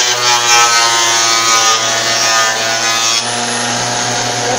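A woodworking power machine cutting end-grain wood for a homemade cutting board, a loud steady whining drone that holds its pitch and drops slightly in level near the end, with no voices.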